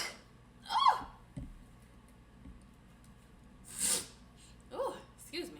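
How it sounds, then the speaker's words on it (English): A single sharp human sneeze bursts out near the end of a quiet indoor stretch, preceded by a softer exclamation, with faint clicks and breaths around it. "Oh, excuse me. Had to sneeze."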